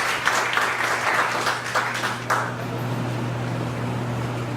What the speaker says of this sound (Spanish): Un aplauso al compañero Gonzalo Sánchez.